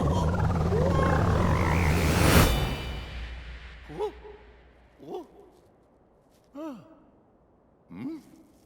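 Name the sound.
frog croaking in the video game Super Mario Odyssey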